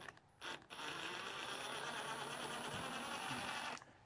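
Power screwdriver spinning in reverse to back out screws on a 1965 Chevy Impala, a steady close whirring buzz held for about three seconds after a brief start, with no talking.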